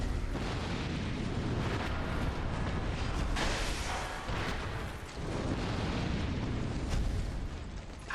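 A Dark Souls II boss rains down fire attacks, producing a dense, continuous roar of fiery blasts and bursting explosions that stays loud and turbulent throughout, with repeated swells and pops.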